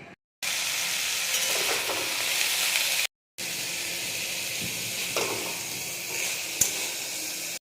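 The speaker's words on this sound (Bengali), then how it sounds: "এদিকে কাঁচা লঙ্কা আর আলুগুলোকে আমি ভেজে নিচ্ছি।" Green chillies and potato pieces fry in hot oil with a steady, close sizzling hiss and faint stirring, split by a short silent break into two stretches.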